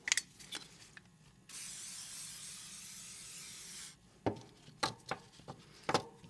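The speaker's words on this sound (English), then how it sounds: "Let's spritz these all down so I don't forget." Spray bottle misting oil over a new batch of knives, a single long steady hiss lasting a couple of seconds, close and clear, bracketed by light taps and clicks of the blades being handled.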